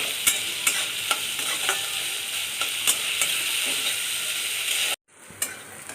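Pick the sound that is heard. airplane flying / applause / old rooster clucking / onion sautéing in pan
onion sautéing in pan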